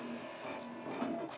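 An office printer runs with a whirring, buzzing mechanical hum and a few brief tonal chirps near the end, moderately quiet and heard alone.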